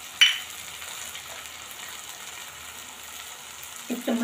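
Ginger-garlic-chili paste hits a hot pan of vegetables with a short sharp burst, then settles into a steady, quiet sizzle. A spoon scrapes and stirs faintly near the end.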